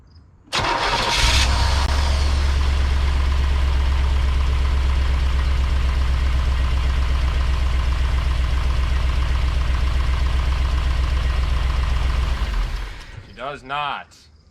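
A 1985 Chevy Corvette V8, parked for 20 years, fires up and runs loud and close with a steady rumbling idle for about twelve seconds, then cuts out, followed by a brief voice.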